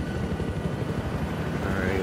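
A helicopter in Battlefield 4 gameplay gives a steady pulsing rotor chop, fairly loud and continuous for the whole brief moment, with faint game noise around it.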